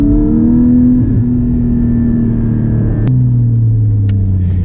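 A Porsche 718 GT4 with a manual gearbox drones steadily from the cabin, then its engine blips sharply to rev-match a downshift and settles into a lower, rumbling pitch.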